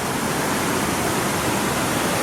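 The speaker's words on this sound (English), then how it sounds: "You see how fast this water's moving?" A fast-moving, high-water stream crossing a hiking trail rushes in a steady, loud, broadband roar, close by and with no voices.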